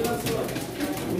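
Pigeons coo softly at a pigeon auction in Çorum, with a continuous murmur of crowd voices over the birds.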